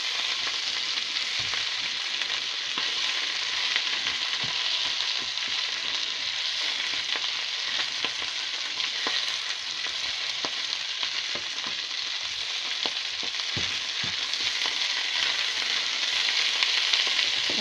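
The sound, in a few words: sausages frying in bacon grease in a pan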